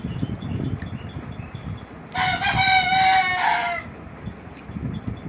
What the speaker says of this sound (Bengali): ডাক শুনে বুঝতে পারবেন যে মোরগগুলো কত বড় হয়েছে।